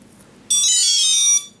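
A single high-pitched electronic tone from a quadcopter's electronics during setup, lasting just under a second with a sharp onset, loud and close against near silence.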